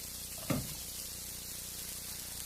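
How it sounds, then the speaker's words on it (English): Garlic and pasta sautéing in olive oil in a pan, giving a steady close sizzle with a sharp clatter from stirring near the start and another near the end. "All right, we're going to saute them"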